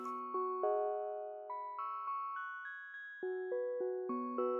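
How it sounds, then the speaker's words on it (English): A 4-bar piano loop in a Logic Pro X R&B beat, single clean notes struck in an even rhythm, rising then dropping in pitch, each decaying quickly, fairly faint and alone with no talk. "I repeated a 4-bar piano loop."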